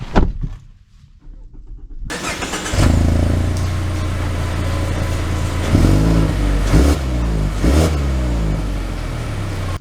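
A 2024 Mazda 3 hatchback starts off after a short quiet moment, then its engine hums and revs steadily with rising and falling tones as it accelerates, heard from inside the cabin and loud throughout.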